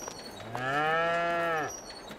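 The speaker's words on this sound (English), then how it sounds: "We got cows." A single long cow moo from Farming Simulator 22, close and clear over quiet game ambience.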